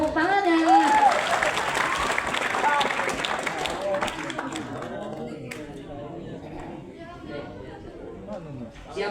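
Islamic boarding school students applaud during a humorous religious lecture, loud clapping and chatter at first that thins out into scattered claps and lively voices.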